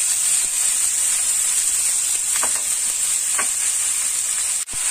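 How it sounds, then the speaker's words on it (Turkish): Chopped onions for a meatball sauce sizzle and fry in a hot pan, a steady close hiss with a couple of soft stirring scrapes and a brief clatter near the end. "Şimdi yemeğe sosunu hazırlamak için soğanımızı döküyoruz."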